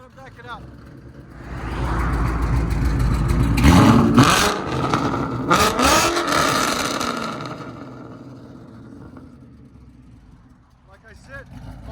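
A Ford Mustang GT with a 5.0L V8 and aftermarket exhaust revs up loudly nearby, with sharp bursts of throttle rising over a rumbling idle before settling, and voices talking alongside.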